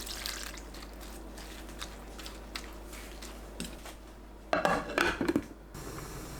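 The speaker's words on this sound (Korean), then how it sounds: "팬에 감자, 황태, 양념 넣고 뚜껑 닫아 센 불로 끓여주세요." Potatoes, dried pollack and a chili-paste sauce are dropped into a pan, with quiet wet squishes and drips, then a brief clattering burst as a lid is set on.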